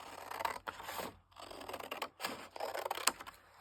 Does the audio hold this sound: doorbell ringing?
no